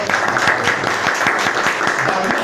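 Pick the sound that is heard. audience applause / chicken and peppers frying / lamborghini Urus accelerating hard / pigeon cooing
audience applause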